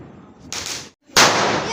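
A Diwali firecracker goes off during a family celebration, with a short crackling burst followed by a louder, sharper bang after a brief silence, close by and loud.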